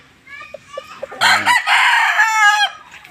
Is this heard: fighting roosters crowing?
yes